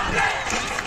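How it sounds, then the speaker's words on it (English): The Wandin crowd at a Premier A Grade football grand final against Mt Evelyn makes a dense, roaring wash of shouting and cheering, steady and loud throughout a brief moment. "There is plenty of noise coming from that Wandin crowd."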